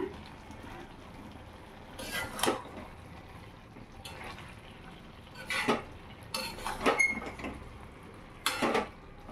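Bursts of a utensil scraping and clinking as banana flower curry (mochar ghonto, with fried lentil fritters and a spoon of ghee) is stirred in a pan, coming in several short irregular strokes over a low background hiss.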